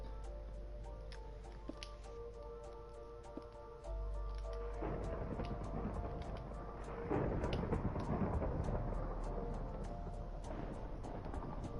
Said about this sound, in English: It's the thunder.